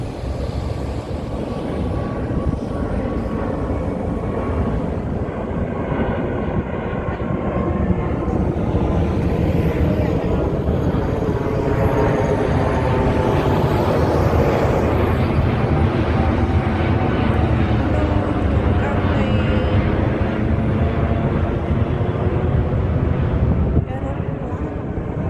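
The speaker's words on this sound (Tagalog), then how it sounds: "Yun na lang, aeroplano." Airplane passing overhead near the seaside at sunset, a broad steady engine roar that swells toward the middle and stays loud throughout, with wind noise on the microphone and some faint talk.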